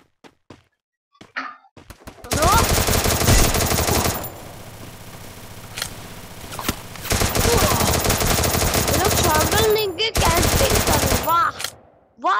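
Rapid bursts of automatic gunfire from the Free Fire video game, loud sustained volleys separated by a quieter stretch, with a few isolated knocks and thumps at the start and end.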